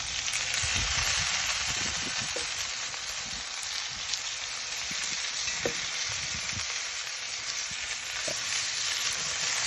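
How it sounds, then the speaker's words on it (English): Steady, loud sizzling of filet mignon frying in a pan, a dense crackling hiss running throughout with occasional sharper pops and no voices. "Gotta get that sizzle in."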